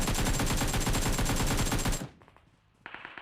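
Rapid automatic gunfire in the mobile game PUBG Mobile rattles loud and continuous for about two seconds, then cuts off, followed by quieter game sounds and a few faint shots.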